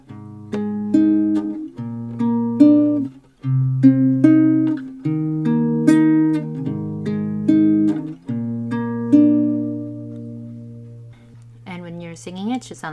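Guitar chords from a song played one after another in a steady, sustained progression at a beginner tempo, with a voice apparently humming or singing along over the ringing strings.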